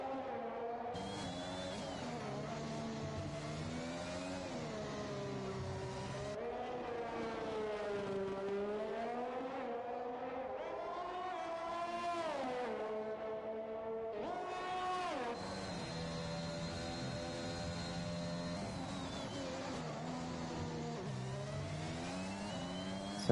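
Formula 1 race car engines on the Baku street circuit in F1 2021, a continuous high-pitched whine rising and falling through gear changes and revs, with no talk over it.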